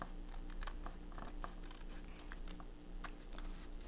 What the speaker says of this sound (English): with my scissors, I'm going to cut the apple